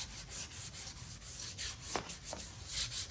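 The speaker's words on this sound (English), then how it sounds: "I've got 220 grit sandpaper. I'm just gonna lightly right here where the transition is, get rid of some of these brushy strokes." Light hand sanding of painted furniture with 220 grit sandpaper, a soft, quiet rhythmic scratching of back-and-forth strokes repeated steadily, with no talking.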